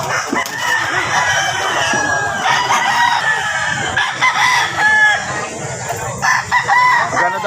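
Fighting roosters crow loudly and repeatedly at a gamecock sale, with clucking and a busy crowd murmuring throughout.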